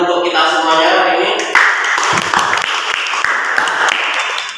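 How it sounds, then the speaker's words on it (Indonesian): Loud, dense clapping from a group that starts under a sustained tonal voice and then continues as steady applause. "Terus tepuk tangan untuk kita semuanya hari ini"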